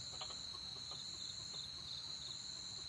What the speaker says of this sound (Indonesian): ayam hutan